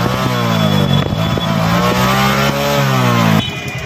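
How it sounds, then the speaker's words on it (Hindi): A heavily smoking motorcycle runs loud and close after starting, its engine note swelling and dipping with light throttle blips before settling. "तो चलिए गाड़ी को हम कर लेते हैं स्टार्ट। ये हो गया हमारी स्टार्ट गाड़ी"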